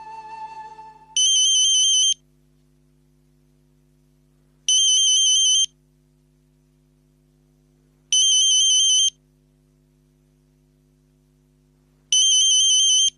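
A phone ringtone plays four times, each a bright electronic trill lasting about a second, separated by a few seconds of quiet over a faint low hum.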